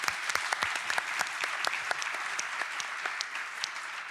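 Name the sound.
audience applause at a conference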